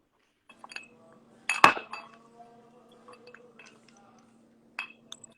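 A cocktail poured into a glass, a bright clinking knock of glassware near the start followed by a soft liquid trickle and a few lighter taps, close and fairly quiet.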